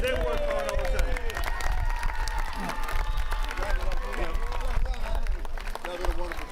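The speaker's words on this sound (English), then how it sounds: "Y'all give them a round of applause" A crowd applauds park supervisors at a community park field dedication, with sustained clapping and some cheering, while voices continue speaking over the ovation.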